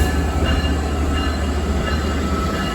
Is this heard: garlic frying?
no